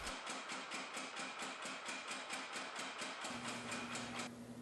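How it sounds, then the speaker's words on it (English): A 50-pound Little Giant trip hammer pounds stacked steel during forge welding, a rapid, steady run of about five blows per second under a constant motor hum, then the hammering stops and the hum continues alone. "Forge welding the two stacks of steel together using a 50-pound Little Giant trip hammer."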